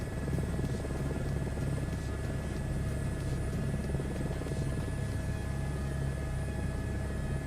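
A Chinook tandem-rotor helicopter in Microsoft Flight Simulator 2024 gives a constant, heavy rotor drone and engine rumble with a steady high whine, loud and unbroken throughout.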